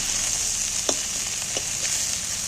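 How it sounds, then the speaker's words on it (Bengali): Fish, likely shrimp, fry in hot oil with a steady, loud sizzle, broken by a few soft clinks of a utensil. "দেখো মাছগুলো কিন্তু ভাজা আমার হয়ে গেছে"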